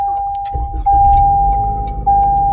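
A Toyota engine cranks and fires up by remote start, heard from inside the car. A steady tone runs throughout, and the engine rumble rises and settles into an idle.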